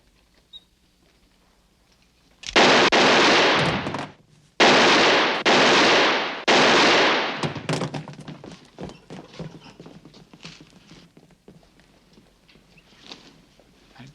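Gunfire in a western film showdown with a sheriff: three loud, sustained bursts of noise, each lasting over a second, followed by a rattle of scattered sharp clicks and thuds that fade out.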